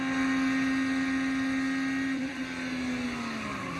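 Onboard sound from an IndyCar race car at Indianapolis: a loud, steady high-pitched engine whine held at constant pitch, then sagging slightly as the car backs off, with heavy wind and road roar underneath.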